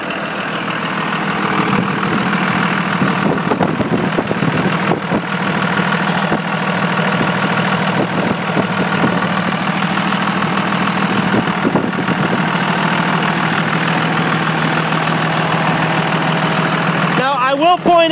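The Cummins diesel engine of a 2001 Dodge Ram 2500 pickup with a 6-speed manual idles steadily for the whole stretch, a loud, close, even clattering rumble with no change in pace.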